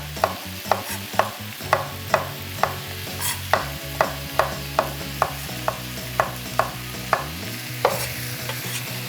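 Ground meat stirred and broken apart in a frying pan, with a steady background sizzle and a regular series of sharp spatula scrapes and taps, roughly one or two per second, close and fairly loud with no talking.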